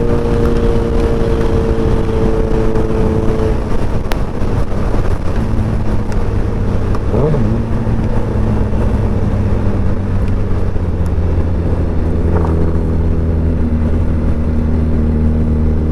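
A Suzuki Hayabusa Gen 3 hyperbike engine drones steadily at speed under a constant rush of wind, its pitch shifting slightly as it runs.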